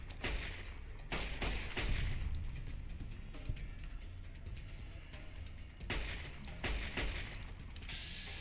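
Gunfire in the video game Fallout New Vegas, several sharp shots spread across the clip, separated by longer gaps over a steady background of game ambience.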